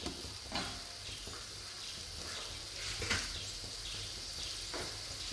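Paneer pulao ingredients sizzle and fry steadily in a pan, a continuous close hiss with a few soft stirring scrapes and no talking.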